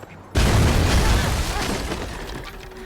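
Cannon fire from enemies in Wuchang: Fallen Feathers, a single sudden loud boom that decays into a rumbling, crackling tail over a couple of seconds, with no talk.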